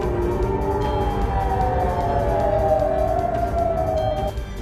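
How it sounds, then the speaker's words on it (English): Air raid sirens sounding across Israel: a loud, sustained wailing tone slowly sliding in pitch, steady and continuous over a dense background rumble, with no voices. "Sirens continue to sound across northern and southern Israel."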